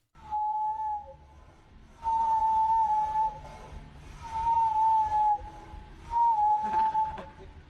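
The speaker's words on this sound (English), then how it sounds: "Why are walruses allowed to whistle?" A walrus whistles in four sustained, steady high tones, each about a second long, separated by short pauses, fairly close and clear over a faint background.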